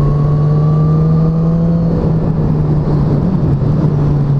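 BMW S1000R motorcycle engine braking: a loud, steady engine drone with a slowly falling tone, sustained throughout without voices.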